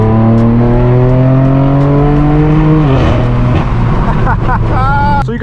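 Straight-piped BMW M4 F82 engine roars loudly and steadily, its tone climbing as it revs, then dropping off before a fresh burst of acceleration, with a rasping exhaust right up close.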